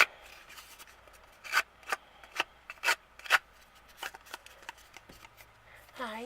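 Paper card edges are distressed with a series of short scraping, rasping strokes, close and fairly quiet, spaced irregularly with brief pauses between them.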